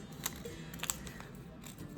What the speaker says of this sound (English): I'm going to use my scissors to cut out the shape right here.